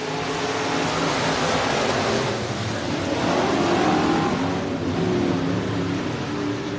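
Modified race cars racing under green flag at Buena Vista Raceway, a dense continuous engine roar from a distance, swelling slightly mid-way as the pack passes.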